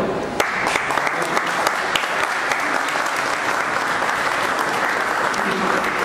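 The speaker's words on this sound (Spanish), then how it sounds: "del cual también pido un fuerte aplauso" Loud, sustained applause from an exhibition audience for artist Miguel Ángel Perico, whose sculptures and paintings are on show, with dense clapping and sharp individual claps throughout and a few murmured voices underneath.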